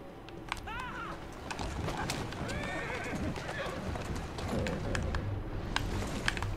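A horse in Assassin's Creed Syndicate gives a whinny among steady clip-clopping hooves and street ambience, with someone talking over it throughout.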